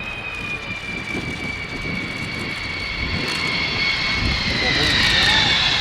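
A jet aircraft descends toward the runway with its air brakes deployed at the Royal International Air Tattoo air show. Its engine roar is steady and gradually louder, heard under a commentator's voice.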